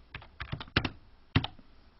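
Several sharp keystrokes on a computer keyboard, typing a file name into a save dialog in Cubase music software, in uneven short bursts close by with no talking.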